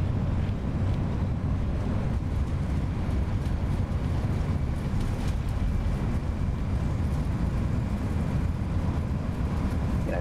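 Thrust reversers on an Airbus A320 roar during landing rollout in the X-Plane 11 flight simulator, a steady, loud, broadband rush that holds without pause for about ten seconds, with no speech.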